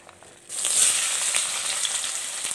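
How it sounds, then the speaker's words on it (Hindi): Onion hitting hot oil in a pan for matar paneer sets off a sudden bright sizzle that stays strong and steady with small crackles and pops. Nobody talks over it. "अब हम डालते हैं इसमें प्याज"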